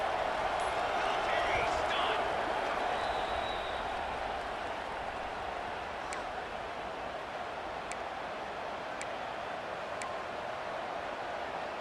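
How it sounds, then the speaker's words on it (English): Constant roar of a stadium crowd during a video game college football broadcast, Ohio State at Oregon near the goal line, a broad steady wash of cheering with scattered sharper spikes. "And the crowd really making some noise now, trying to help out this defense to get this stop near the goal line."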